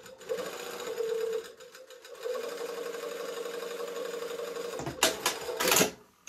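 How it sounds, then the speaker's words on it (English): A sewing machine stitches the neck edge of a shirt dress at a quarter-inch seam, from the shoulder seam toward center back. It whirs in close, steady runs: a short burst, a pause, a longer run, then a few louder rattling bursts at the end. "I'm going to start at the shoulder seam and sew towards center"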